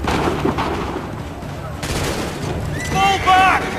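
Battle gunfire in the video game Assassin's Creed III: scattered musket shots and booms under shouting voices and game sounds, with a louder burst of fire near the end.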